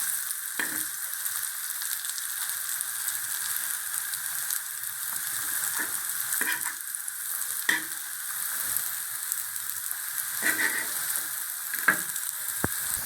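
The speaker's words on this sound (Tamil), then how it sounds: "இப்போ குழம்பு கொதிச்சிக்கிட்டு இருக்குல்ல" Radish vadai kuzhambu, a Tamil curry, bubbling in a pot, giving a steady broadband sizzle with scattered soft pops and stirring knocks, fairly close and continuous with no talking.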